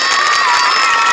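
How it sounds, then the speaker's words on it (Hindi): A short, loud burst of crowd applause and cheering at a neighbourhood felicitation gathering, dense clapping heard alone without speech. "इनके लिए तालियां बजाइए एक बार आप।"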